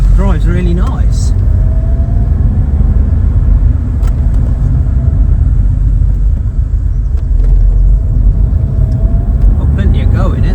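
Steady low road rumble and engine drone from inside a 2 litre car with about 145,000 miles, driving along a road, loud and continuous with light talk over it.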